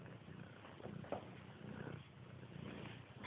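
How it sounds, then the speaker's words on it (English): A cat purrs close by, indoors next to a running wood heater, a soft continuous rumble with low background hum and no talking. "Little Kitty's over here. She come in when she realised the wood heater's going"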